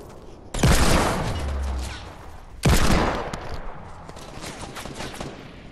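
Two loud, sharp hand cannon pistol shots in the Fortnite battle royale video game, about two seconds apart, each with a booming tail that fades away; no talking.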